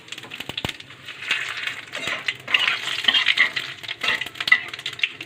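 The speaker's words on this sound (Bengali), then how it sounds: "দিয়ে আমি ফোড়নে দেবো দুটো শুকনো লঙ্কা, দুটো তেজপাতা আর গোটা জিরে" Dried red chillies, bay leaves and whole cumin spluttering in hot oil in a kadai, a close, steady crackling sizzle with scattered sharp pops and a few light metallic clinks, no talking.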